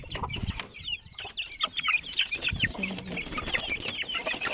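Rhode Island chickens clucking close by in a farmyard, a busy overlapping run of cackles and short calls with bird movement and some quiet rustling.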